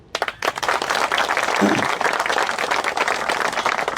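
Audience applause at a political speech by an MLA on farm loan waivers, a dense, steady wash of clapping that fills the whole stretch after a brief quiet start.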